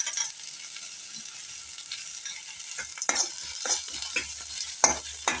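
Chana dal and peanuts frying in a pan for poha paneer upma, a soft steady sizzle with a few sharper crackles and stirring scrapes toward the end.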